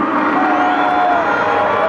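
A crowd of Yanga football club supporters at Mkapa cheers for the players in a brief, loud burst of mixed voices and whoops.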